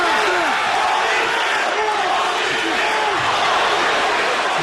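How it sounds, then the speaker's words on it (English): Boxing arena crowd at the Holyfield vs Oquendo fight chanting Holyfield's name, a loud, dense roar with rising chant-like swells throughout. "There's that same Holyfield chant that we heard when he fought Mike Tyson"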